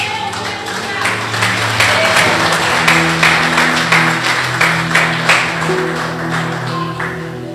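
Church congregation applauding steadily for several seconds, dense loud clapping filling the room with a sustained organ-like tone beneath and faint voices mixed in.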